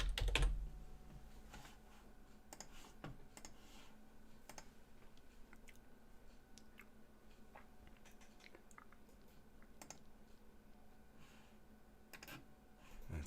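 Quiet, irregular typing on a computer keyboard, with scattered soft key clicks and short bursts spread over a low hum, with no talking.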